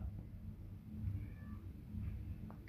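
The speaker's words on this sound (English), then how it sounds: "Cat. My cat. My big cat. This is my big cat." A cat meowing in a quiet indoor setting, a soft, faint call over a steady low background rumble, with no one talking.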